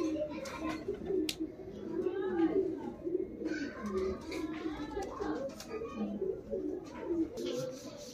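Punjabi Malwai pigeons at a sale loft in Sonipat coo steadily in low, overlapping murmurs across several seconds, close and continuous, with faint human voices and brief sharp clicks mixed in.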